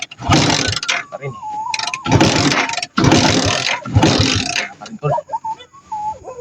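An overheated motorcycle engine is cranked and revved in loud, rough bursts separated by short pauses, with voices talking nearby.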